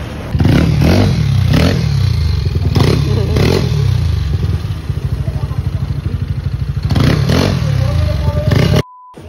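A Yamaha NMAX 195cc scooter with a Top Speed Tech tune revs hard in repeated bursts, dropping back to a fast, rattling idle between blips, loud and close, with voices talking over it.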